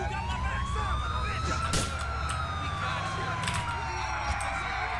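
A wailing police siren in the video game Grand Theft Auto IV rises and falls steadily under continuous background noise, with occasional sharp clicks and a voice in the mix.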